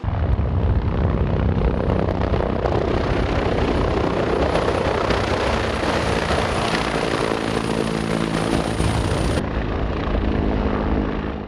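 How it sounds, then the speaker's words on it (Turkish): The T129 Atak attack helicopter performs a flight demonstration at the Turkish Aerospace Industries facility, its rotor and engine roaring loud and continuous with a steady high whine throughout. "Türkiye'nin ilk milli taarruz helikopteri olan Atak, Türk Havacılık ve Uzay Sanayi Anonim Şirketi tesislerinde muhteşem bir gösteri yaptı."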